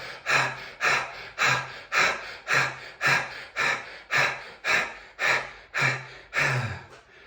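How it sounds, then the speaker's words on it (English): Fast pant breathing in a breathwork session: about a dozen quick, forceful breaths in a steady rhythm, close and clear, each a short rushing puff. "something that is really helpful is pant breathing. So just making the breath a little bit faster for a period of time."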